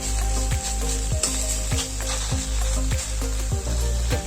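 Steady, loud sizzling of drumstick (moringa) pods frying with spices and onion in hot oil, with periodic scraping and stirring strokes against the pan roughly every half second.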